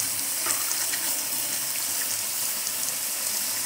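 Cold tap water running steadily into a kitchen sink while it fills about halfway, a continuous close hiss of flowing water with no talk.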